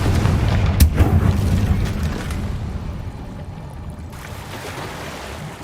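In the Hogwarts Legacy video game, a Confringo blast spell goes off with a deep, loud rumbling boom and a sharp crack early on. The blast then fades into a steady roar.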